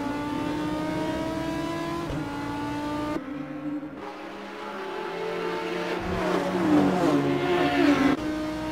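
TCR race car engines at Monza in the video game Assetto Corsa scream at high revs with sharp gear-change cuts, one brief drop-off, then another car climbing through the revs, loud and close with faint tire squeal.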